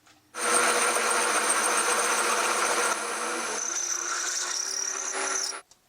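A drill on a milling machine whirs steadily for several seconds drilling holes in metal plates, its pitch shifting slightly midway as it bites into material, then stops abruptly.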